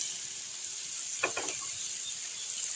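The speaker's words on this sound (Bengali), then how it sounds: "তাতে একটু ভাজা হোক চিংড়ি মাছটা" Shrimp frying in a pan as spice powder is added: a steady, soft sizzle throughout with a brief burst of stirring or scraping in the middle.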